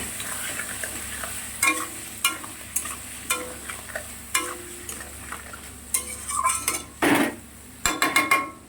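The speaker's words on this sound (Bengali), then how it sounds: "বেগুনগুলোকেও ভালো করে লাল লাল করে ভেজে তুলে নেব।" Eggplant pieces frying in hot oil in a pan make a soft steady sizzle, punctuated by sharp metallic clinks and scrapes of a spatula against the pan, close by with no talking.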